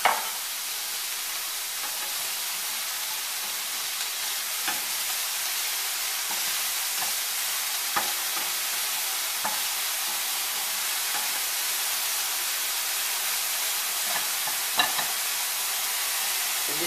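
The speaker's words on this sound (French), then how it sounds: "Je fais revenir chaque ingrédient." Ingredients for a farmhouse salad with poultry gizzards and lardons frying in a very hot pan, a continuous sizzle and hiss broken by occasional scrapes of stirring, with no talking.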